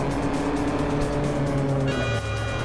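A race car at full throttle in the Juiced racing video game: a steady, loud engine drone held near the limit, briefly shifting in pitch near the end, with no talk.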